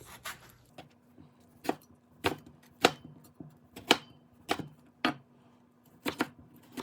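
A kitchen knife chops tomato and other vegetables on a board, with sharp, crisp strikes coming at an irregular pace close to the mic.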